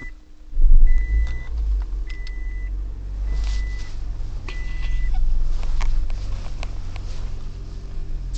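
A 2008 Toyota Prius sounds short electronic beeps in a repeating pattern as the park button is pressed, the tones clear over a steady low engine hum and a few soft cabin clicks.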